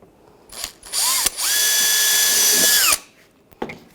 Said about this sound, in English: I'm just gonna take a small drill, just drill right there, and make a pilot hole.